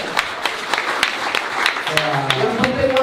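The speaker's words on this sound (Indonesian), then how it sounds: "tepuk tangan." Audience at an Indonesian business seminar claps in scattered, uneven bursts for a few seconds, with a voice and low murmuring mixed in underneath.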